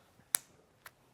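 Two sharp claps during a seated fall-prevention exercise, a crisp loud one followed by a softer one about half a second later, in an otherwise quiet room.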